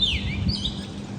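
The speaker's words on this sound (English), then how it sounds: "You can hear the birds and enjoy the birds." Brief, high chirping birdsong at a hotel in Pattaya, Thailand, over a low background rumble of nearby construction, moderately close.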